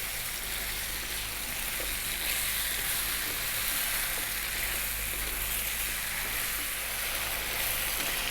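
Carrots and potatoes for curry chicken sizzling steadily in a hot pan, a loud, continuous hiss of frying with no talk.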